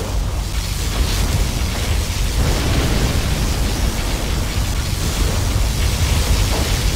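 A particle cannon strike detonates in the real-time strategy game Command & Conquer Generals Zero Hour, a loud, sustained roaring blast of dense rumbling noise that fills the whole stretch without a break.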